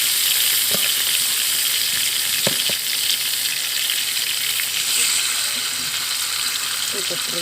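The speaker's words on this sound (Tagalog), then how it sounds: "Prito lang muna ng ganito." Loud, continuous sizzling of chicken frying in hot oil for adobo, with a few brief clinks and scrapes of stirring along the way.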